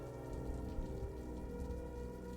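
Steady rain falling on a surface in a horror animation, a dense continuous patter held at even loudness throughout with no voices.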